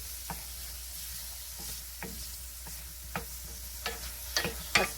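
Sliced Roma tomatoes cooking in a pan for a spaghetti squash dish, giving a steady low sizzle broken by scattered stirring knocks and scrapes that grow sharper toward the end.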